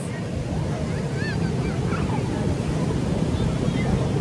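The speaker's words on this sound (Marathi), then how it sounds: "हा सागरी किनारा." Sea waves wash onto the shore at Ganpatipule beach in a steady broad roar mixed with wind buffeting, with faint distant voices and calls in the background.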